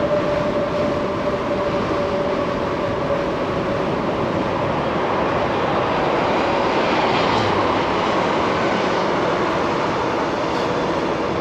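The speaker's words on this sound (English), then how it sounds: "Wow, was that wind loud?" Loud, steady wind roar on an Aventon Aventure e-bike in North Augusta, a dense broadband rush that stays constant from start to end with no talk over it.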